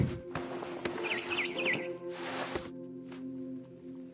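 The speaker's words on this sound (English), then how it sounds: "I heard chirping outside my window. It was a barn swallow going back to her nest." Barn swallow chirping outside a window in a quiet game scene, a short run of bright, rising chirps near the middle, with faint rustling and a steady low ambient hum around them.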